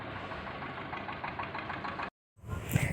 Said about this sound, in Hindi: कभी कहीं से ट्रैक्टर आ रहे हैं, कहीं से जा रहे हैं